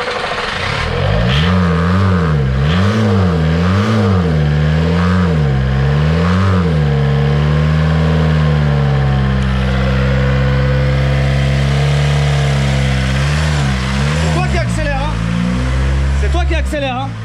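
A Skoda Octavia 1.9 TDI diesel engine, just fitted with a replacement injection pump, revs loudly and repeatedly in rising and falling surges up close, then settles into a steady idle, with a person speaking briefly near the end.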